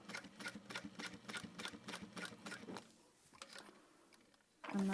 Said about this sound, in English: I'm up on my vinyl now, and I will sew through the top.